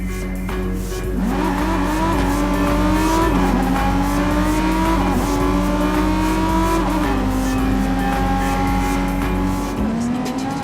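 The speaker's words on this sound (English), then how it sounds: "We can get there by driving across the Bay Bridge together." Car driving across the Bay Bridge in Watch Dogs 2, a steady loud engine drone with rising and falling revs and some tire squeal, continuous throughout.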